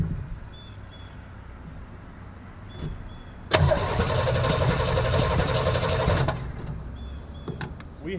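A 1974 Chevrolet Nova engine, long unused and low on compression, cranks over on the starter for about three seconds with a rapid whirring churn, close up in a quiet space, then stops without firing.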